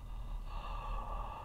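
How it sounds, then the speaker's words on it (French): A soft, gentle yawn is drawn out as one continuous breathy exhalation with a low airy tone, close and quiet, used as a singing exercise to lower the larynx. "Essayez de bâiller tout doucement."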